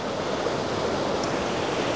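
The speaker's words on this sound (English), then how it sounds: "So this is the famous little mini waterfall," A small mini waterfall in a park garden, its rushing water giving a steady, dense hiss that is close and unbroken, with no voices.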